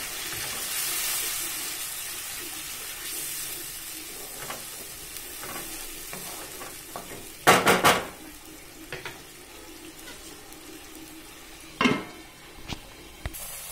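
Water is poured into a pan of young cluster fig (udumbar) fruit being cooked as a vegetable, bringing soft sizzling and stirring with a couple of short, sharp splashing bursts.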